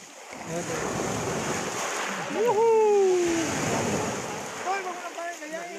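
Waves surging onto a beach at Masiga, Gasan, during a baby sea turtle release, a steady broadband wash of surf under shouting and a short whistle-like voice sound.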